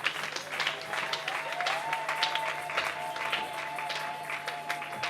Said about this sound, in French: Est-ce qu'on peut applaudir pour notre papa?